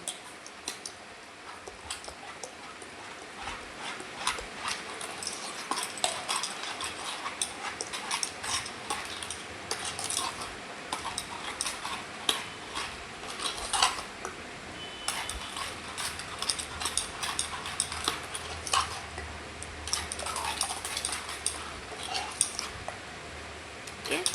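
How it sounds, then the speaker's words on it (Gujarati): A spoon stirs sugar into yogurt for dahi vada, giving quiet, rapid, irregular clinks and scrapes against the bowl that go on steadily with no talk. "હવે આને અમે એકદમ બરોબર રીતે મિક્સ કરી નાખશું"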